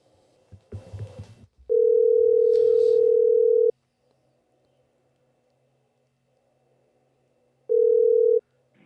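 A telephone dial tone sounds loud and steady for about two seconds, then returns briefly after a pause, with some muffled handling noise and voices just before, as a prank call is set up.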